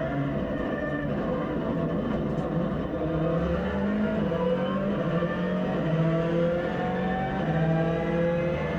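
A Subaru WRC S12 rally car driving on a rally track, heard from inside as a loud engine drone with rising and falling revs and gear changes that continue steadily with no talk.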